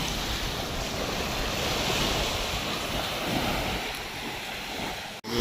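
Sea waves washing onto Batu Ferringhi beach in Penang, a steady broad surf wash with some wind noise, moderately loud and continuous with no talking, ending in a brief dropout and bump.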